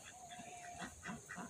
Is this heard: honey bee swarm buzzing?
no